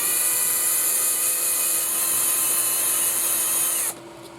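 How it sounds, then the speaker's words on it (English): A handheld power drill bores through an RC truck buffer, a steady loud high-pitched whine that runs continuously for nearly four seconds before cutting off abruptly into quieter room tone, with no talking. "the other end you can just hold it and drill the first one through"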